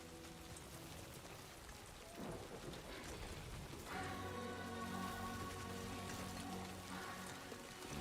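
Steady rain pours in the Death Stranding 2 video game, with thunder rumbling and rolling in midway through. The downpour stays constant and close, and no one talks over it.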